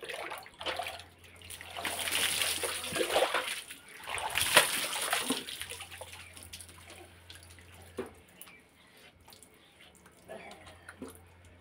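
Water splashing and sloshing during a bath, irregular bursts of pouring and splatter rising and falling over several seconds, fairly close, with a low hum in the background.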